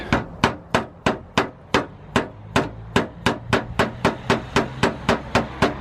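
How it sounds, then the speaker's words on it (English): Plastic push rivets are knocked into a front wing bracket on a BMW E46, a steady series of about twenty sharp, close tapping strikes in an even rhythm with no voices. "push some of those push rivets in to hold this bracket in place"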